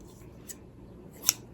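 A pair of yellow-handled Keen Edge scissors gives two brief, faint metallic snips a moment apart against a soft room hiss, with nothing else heard.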